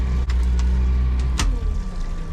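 A fishing boat's engine drones loud and low, held at raised revs to drive the pot-hauling winch while lobster and crab pots come up in UK coastal waters; a few sharp knocks and clanks break the steady hum.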